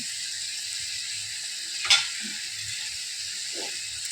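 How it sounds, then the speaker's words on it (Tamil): Liver sautéing in a hot pan gives a steady, even sizzle throughout, with a brief louder flare of frying near the middle and a few soft stirring knocks. "ஈரலை ரொம்ப நேரம் வதக்காதீங்க, மாதிரி திக்கி ஆயிரும்."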